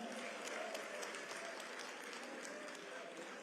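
A crowd at an elected leaders' political meeting at KICC applauds in a dense, continuous roar of clapping, fairly faint and distant, with scattered sharper claps throughout.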